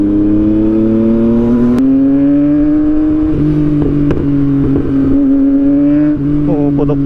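A Yamaha MT-09 naked motorcycle drones steadily on a short ride, its exhaust letting out a few sharp, isolated backfire pops and a brief cluster of crackles near the end, loud and close, with faint voice sounds late on.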